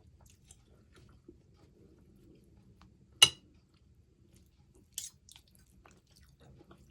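Quiet close chewing of a homemade rare steak, soft wet mastication with a sharp bite or clink at mid-clip and a couple of fainter ones later; no talking.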